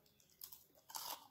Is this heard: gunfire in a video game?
no